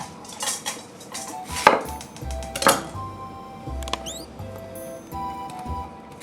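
An onion is rough-cut with a knife, giving a few sharp chopping knocks spaced apart, with steady low tones and some bird-like chirps in the background.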